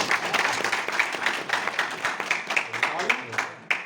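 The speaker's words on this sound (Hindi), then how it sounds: "भाई के लिए जोरदार तालियां हो गई।" An audience claps together in loud, steady applause that holds for several seconds, with a voice speaking over the clapping.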